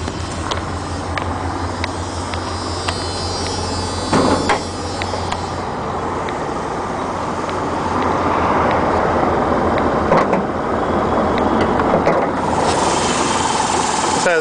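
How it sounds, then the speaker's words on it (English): A Dodge wheelchair van's 5.9 V8 engine idling smoothly, a steady low hum and rumble under light mechanical whir, close and continuous for the whole stretch. "Can hear the motor. The motor runs smooth."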